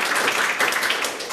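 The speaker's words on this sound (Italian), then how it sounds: "un applauso a Vincenzo Fiorillo" An Italian television studio audience applauds a guest, Vincenzo Fiorillo, with brisk, continuous bright clapping at steady volume for the whole moment, no voices on top.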